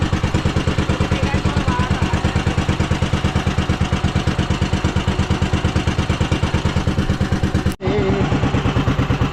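A steady, rhythmic engine chugs at idle, loud and close, with a brief dropout near the end before it continues.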